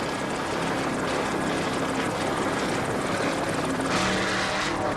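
Offshore racing powerboats at the 1986 Islamorada Budweiser 100 in Florida roar steadily through rough water, a loud, continuous engine drone with surging swells and spray, no talking.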